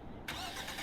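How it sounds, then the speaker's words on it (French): A car engine in the video game HumanitZ cranks and catches abruptly, jumping from quiet to a loud, steady running rumble in under a second, with no voices. "Démarrer le bolide."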